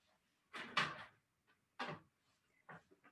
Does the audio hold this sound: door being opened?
yes